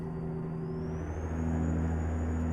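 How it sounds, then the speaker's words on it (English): Truck engine in American Truck Simulator, with a steady low drone and a slowly rising whine as the engine gains revs. "I also could have turned down the engine sounds in the game."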